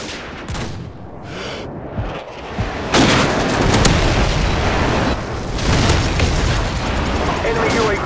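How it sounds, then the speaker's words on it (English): Heavy airstrike explosions in Call of Duty 4 boom one after another, loud and close with rumbling tails, mixed with scattered gunfire and brief in-game radio voice callouts. "Friendly airstrike on the way."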